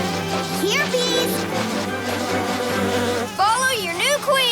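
Cartoon bees buzz in a continuous droning swarm, loud and close, with whiny pitch sweeps, while a character's voice speaks over the buzzing.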